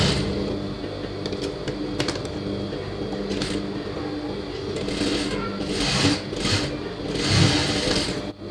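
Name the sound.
sewing machine stitching a blouse sleeve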